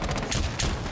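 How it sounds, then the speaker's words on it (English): Rapid video game gunfire cracks out in a quick burst of several loud, close shots with short gaps between them, filling the full second. "This gun do be hitting quite hard, actually."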